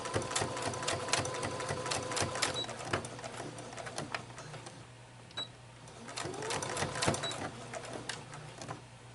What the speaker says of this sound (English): You want to go over that elastic a couple of times to make sure it's stitched in that seam securely.